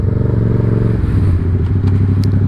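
A motorcycle engine running steadily while riding, a loud, dense, close drone with a rough pulsing throb and some rattling clatter, no talking.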